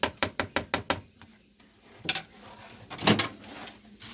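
Six quick, evenly spaced mechanical clicks, then a pause and two heavier thuds, like a microwave door being worked nearby.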